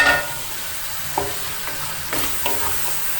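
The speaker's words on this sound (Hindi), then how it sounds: "अब मैं टमाटर के साथ इन सब मसालों को अच्छी तरह भून लूँगी।" Spices and tomatoes frying together in a pan for kofta biryani: a short burst of close, steady sizzling broken by a few scraping stirs.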